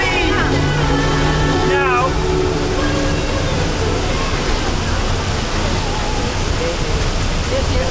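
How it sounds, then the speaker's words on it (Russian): The large Düden waterfall in Turkey, reached by boat, roars loudly and continuously at close range, with voices talking briefly over the rushing water at the start. "Приплыли на большой водопад Груден."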